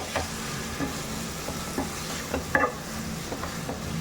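Grated raw mango is stirred into mango pulihora rice in a pan. The stirring makes a soft, repeated scraping and shuffling at close range, with light sizzling and no talk.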